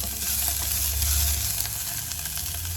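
Onion or shallot and garlic frying in hot olive oil over medium-low heat, a steady close sizzle with soft crackling running continuously with no talk.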